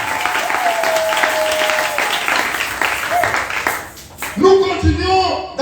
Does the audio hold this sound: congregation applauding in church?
yes